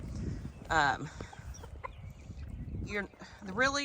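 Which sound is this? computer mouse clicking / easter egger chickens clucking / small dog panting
easter egger chickens clucking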